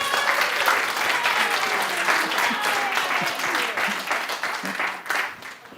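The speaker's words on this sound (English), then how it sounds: "So let's give them a big round of applause." Congregation applause fills a Unity church service, steady dense clapping from many hands sustained throughout and tapering slightly near the end.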